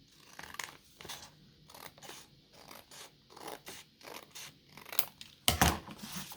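Scissors snip down the center of paper for a pop-up junk journal card, a quiet close series of crisp cutting strokes with rustling paper between them and a louder snip near the end.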